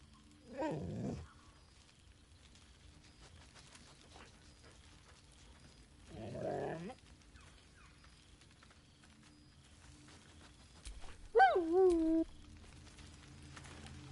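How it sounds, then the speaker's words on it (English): A dog in the video game Baldur's Gate 3 gives a few brief barks and whines, spaced apart and fairly faint over a quiet game backdrop, with no talking. "Scratch barks merrily in something like agreement."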